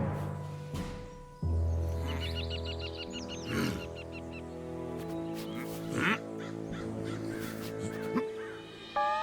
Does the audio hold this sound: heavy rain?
no